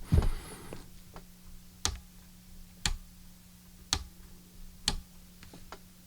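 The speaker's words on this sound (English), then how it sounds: "a lot of these buttons are very tactile, a little clicky" Sharp clicks from the tactile buttons of a Zoom PodTrak P8 recorder at roughly one-second intervals, crisp and close, over a faint steady hum and a brief rustle at the start.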